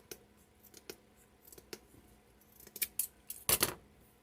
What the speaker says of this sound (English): Let me cut my rope.